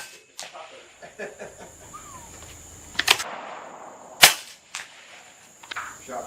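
A suppressed Savage Axis rifle in .300 Blackout fired with factory subsonic loads at an outdoor range: two sharp, muted cracks a little over a second apart, with softer clicks and handling noise around them.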